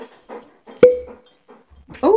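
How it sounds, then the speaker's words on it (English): A dog pants and whines close to the microphone in short breathy bursts, with a sharp click midway and a brief spoken exclamation. "I like the sound of the dog in the background."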